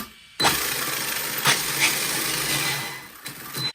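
An Arrma Typhon RC car's electric motor, fitted with wheels, whirs up suddenly on throttle, a loud, close, high-pitched whine with a few surging pulses that lasts about three seconds before cutting off.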